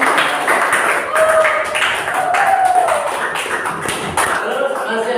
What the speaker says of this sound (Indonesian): Ya, tepuk tangan juga.